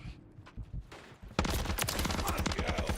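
Rapid gunfire bursts in a multiplayer shooter match of XDefiant or Modern Warfare III, starting low under soft voice and music then erupting loud and dense after the first second, with overlapping shots and game effects.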